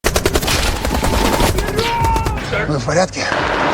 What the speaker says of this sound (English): a shootout inside the room ensued